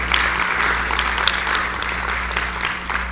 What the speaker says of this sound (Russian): давайте громкими аплодисментами пригласим нашу